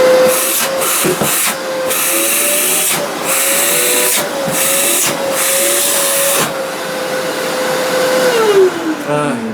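A Festool CLEANTEC CTL 36 E AC construction vacuum runs at maximum suction, a loud steady whine and airy hiss with several brief dips and surges, its pitch sliding down as it winds off near the end.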